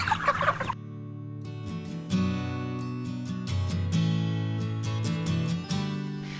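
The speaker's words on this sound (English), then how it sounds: "When you think of chicken farms, you likely envision chickens crammed into small cages" Chickens clucking on a hillside farm in China, a steady chorus of close, loud clucks and squawks running continuously with no talk.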